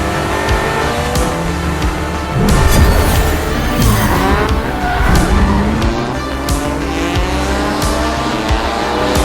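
Added engine sound effects laid over remote control cars, loud racing engines revving and accelerating close up, with tire squeals and skids that surge in the middle, alongside other layered sound.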